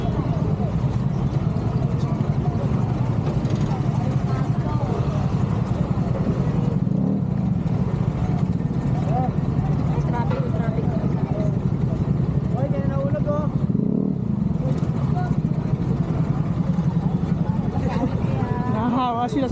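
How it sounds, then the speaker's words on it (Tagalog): Sustained hum of congested road traffic with engines rumbling close by and occasional faint squeals and clatter, loud and unbroken while people talk over it. "Traffic."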